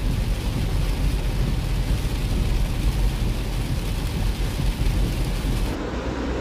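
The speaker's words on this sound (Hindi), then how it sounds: "इतनी ज़्यादा आवाज़ आ रही है ना बारिश की पूरी गाड़ी के अंदर" Heavy rain drums steadily and loudly on the body of a car being driven on a road trip, a dense continuous roar with low road rumble underneath and no talking.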